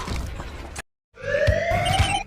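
An electronic alarm sounds in a film scene after a lab explosion, a steady rising tone that cuts in after a brief silence, loud and alone over background noise.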